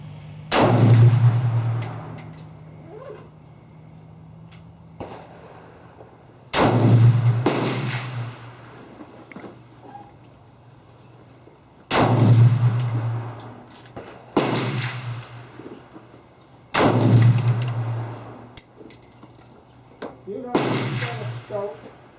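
Gunshots at an outdoor county firing range: five loud, sharp reports spaced about five seconds apart, each with a booming low tail and echo, with quiet gaps between them and a voice speaking faintly.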